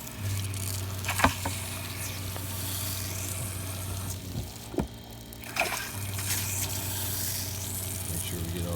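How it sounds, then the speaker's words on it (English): Water splashes and patters steadily as it drains out of a camper being winterized, with a low motor hum underneath and a few sharp knocks. "Make sure we get all the water out"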